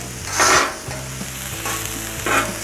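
Smash burgers and onions sizzling on a Cuisinart 360 cooking center griddle, a steady close hiss of frying with occasional brighter crackling swells and a low hum underneath, no voices.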